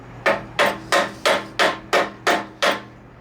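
A hammer strikes the edges of a bolt clamped in a vise, seven sharp metallic blows at an even, quick rhythm, each ringing briefly before the next, close and loud.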